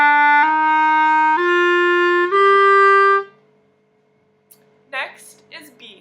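Clarinet plays a short ascending run of held notes, each stepping higher, loud and close, then stops; after a pause a voice starts talking.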